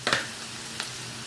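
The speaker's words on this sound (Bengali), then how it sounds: "আমি এবার এর মধ্যে দিয়ে দেবো পেঁয়াজ কুচি।" Chopped onions hit hot oil with a sharp burst of sizzling, followed by a steadier low frying hiss and a second brief crackle.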